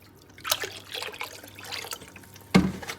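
Vinegar splashing and trickling into a dirty cast iron pan, with scattered liquid drips and a louder burst of pouring near the end, close by and without talk.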